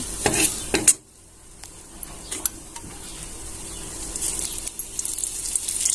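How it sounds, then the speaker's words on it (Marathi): Fried onion in a pan rattles and scrapes as it is pushed aside, then a low steady sizzle builds as oil is added, with occasional clinks of a utensil against the pan. "आता कांदा एक साईडला करून घेऊया आणि त्याच्यामध्ये तेल घालून घेऊया"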